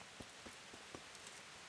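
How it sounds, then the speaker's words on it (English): Steady rain falling in the medieval world of Kingdom Come: Deliverance, a soft continuous hiss with a few faint drips standing out, low and even throughout. "I have to wait for it to stop raining"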